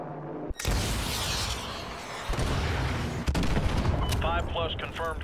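Gunfire in the video game Call of Duty: Modern Warfare 2, loud sustained bursts with sharp cracks and booming impacts, and a voice calling out over the din near the end.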